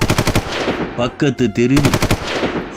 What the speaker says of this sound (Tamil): ஒரே துப்பாக்கி சத்தம்